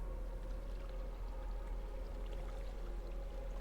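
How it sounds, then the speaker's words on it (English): Flowing water in a WoW Classic video game dungeon, a soft continuous rushing wash over a low steady hum, with no voices. "This is just water."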